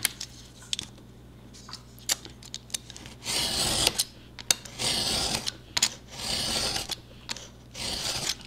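Small pieces for a tiny bookshelf being cut by hand: a few short rasping cutting strokes come in separate bursts, with quiet clicks and handling noises between them, close and moderately loud.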